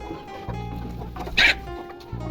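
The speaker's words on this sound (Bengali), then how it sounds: "সেখান থেকে একদম মুরগি নিয়ে নিলাম" Chickens kept for eggs and meat at a rural Bangladeshi village home cluck over a low steady background, with one louder, sharper squawk-like cluck standing out in the middle.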